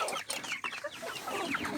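Hens cluck busily and close by in a small laying flock, several overlapping murmuring calls with no talk over them.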